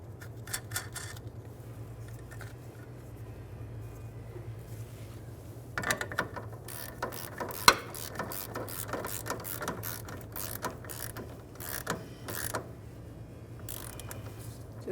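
Brake hose nut being threaded and snugged on a 1997-2006 Jeep Wrangler, faint irregular metallic ratcheting clicks in quick bursts, sparse at first and then denser, close by with no talking.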